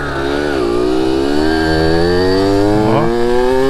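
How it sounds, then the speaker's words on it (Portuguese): A Kawasaki KX85 two-stroke dirt bike engine revs close and loud, a steady buzzing whine rising and falling in pitch through continuous throttle changes, with no voices over it. "A motinha acelera"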